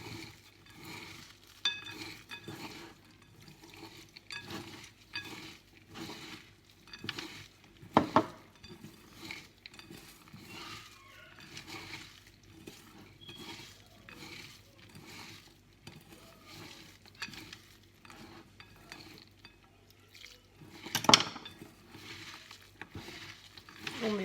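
A baklava mixture with orange blossom water is stirred in a bowl, giving repeated soft scraping strokes and occasional utensil clinks against the container, close and fairly quiet, with no talking.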